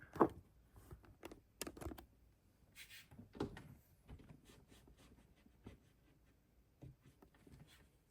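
Someone types a password on the keyboard of a 2012 MacBook Pro, scattered close key clicks and taps with uneven pauses in a quiet room, no talk.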